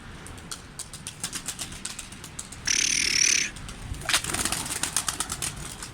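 A pigeon takes off and flaps its wings in a burst of loud, close fluttering, set against a broadband background hiss with scattered clicks before and after.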